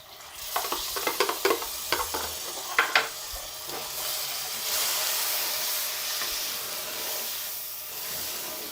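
Mutton keema sizzling in a pan after a milk and yogurt mix goes in, with a series of sharp stirring clatters early on giving way to a steady loud frying hiss.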